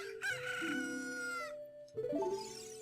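A chicken crowing in the Zelda video game Master Quest, one long, clear cock-a-doodle-doo followed after a brief pause by the start of a second crow, close and alone.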